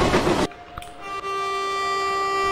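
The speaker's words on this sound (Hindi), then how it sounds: "ये हमारा WG5 भी बहुत ही बढ़िया एक्सीलेट कर रहा है" A WG5 locomotive accelerating in the Open Rails/MSTS train simulator on a Pune–Bhusaval express run: a brief burst of rumbling noise cuts off into a steady tonal engine drone with clicks, close and loud, no voices.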